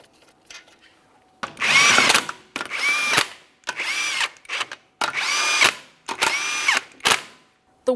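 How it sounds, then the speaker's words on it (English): Power tool tightening wheel lug nuts on a 2008-2017 Mitsubishi Lancer, five loud whirring bursts of about a second each, close up and regularly spaced, with no talk. "torque each of these lug nuts to 80 foot-pounds"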